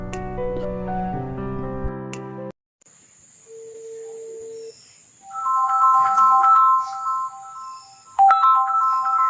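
A phone rings with an incoming call, playing a melodic ringtone of clear electronic tones that stops briefly, then resumes as chiming note patterns, loud and close.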